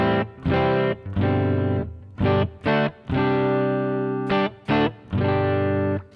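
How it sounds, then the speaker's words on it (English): Clean electric guitar played straight through a Sansamp amp simulator and a noise gate, picked chords ringing in short bursts with abrupt gated cutoffs between phrases. "So this is the sound of my guitar straight in, no pedals engaged except the noise wiper gate and obviously the Sansamp to give me that amp sort of sound."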